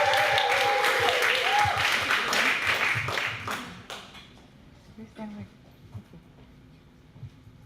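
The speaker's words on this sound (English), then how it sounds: "let's give a round of applause to welcome them" Audience applause at a creative talks event, a burst of many hands clapping that fades out after a few seconds, followed by quiet room noise and a few scattered sounds.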